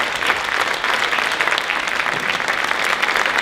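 An audience at a concert by a town brass band in Osimo, Italy, applauds steadily, the dense clapping of many hands filling the hall at an even level throughout.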